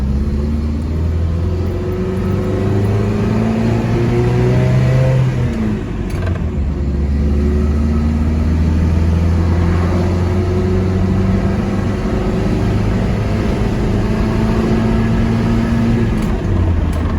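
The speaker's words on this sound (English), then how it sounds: "I'm on my maiden voyage with the rebuilt 22R engine" A Toyota truck's rebuilt 22R engine with a new head drones steadily while driving, rising and falling in pitch as it accelerates and shifts, loud and close with constant road rumble.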